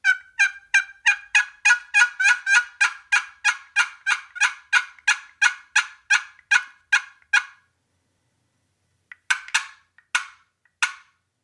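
A rapid run of sharp turkey yelps from a friction call played with a chalked striker, about twenty evenly spaced notes, then a pause and a few slower clucks, close and clear.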